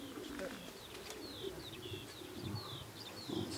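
Racing pigeons circling and settling at a club loft in Wejherowo, with faint repeated chirps and tweets over steady outdoor background noise, soft and at a distance.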